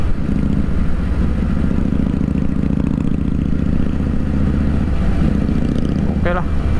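A Harley-Davidson motorcycle engine rumbles loudly and steadily up close, a thick continuous throb with a brief rising rev near the end.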